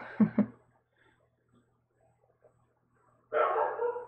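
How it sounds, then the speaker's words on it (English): A dog barks twice in quick succession at the start, fairly distant and muffled. After a quiet gap comes a longer, louder burst of barking near the end. "I don't know if you can hear that, but my dog is barking."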